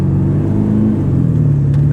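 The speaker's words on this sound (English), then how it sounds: "The exhaust sounds really good." Exhaust note of a truck with a 7.3 Power Stroke diesel cruising at about 15 mph, a steady, loud low rumble that holds throughout without a break.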